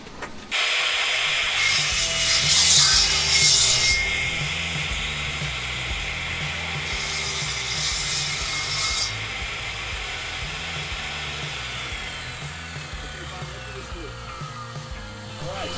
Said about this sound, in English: This is a piece of shelving. It's melamine shelving. I'm using a Bosch table saw with just a standard insert plate.